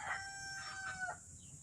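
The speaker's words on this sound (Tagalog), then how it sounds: "Yung mga manok." Chickens on a small vegetable farm with a rooster crowing at a distance, a drawn-out call in the first second over steady outdoor background noise, no talking.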